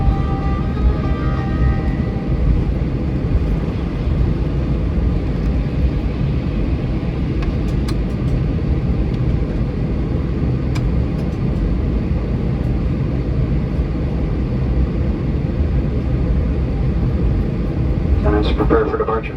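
Steady cabin rumble inside a Delta Airbus A321 before takeoff, a constant low droning hum with faint rattles, while a cabin announcement plays over it.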